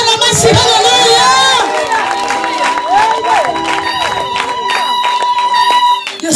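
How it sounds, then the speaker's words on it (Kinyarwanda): A church congregation breaks into loud applause and cheering, with dense clapping, shouts and raised voices washing over one another, then thinning and dropping away at the end. "Imbere Imana amashyi"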